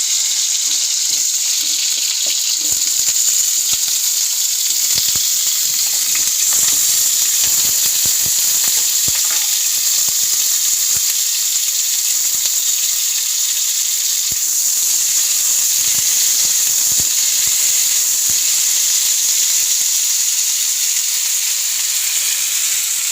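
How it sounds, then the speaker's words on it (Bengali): Potatoes frying in hot oil in a home kitchen pan, a loud, steady sizzle and hiss that runs unbroken for the whole stretch, with occasional clinks and stirring noises and no voices. "এদিকে আলুটা আমি ভেজে নেব। তেল গরম হয়ে ছেড়ে দিলাম।"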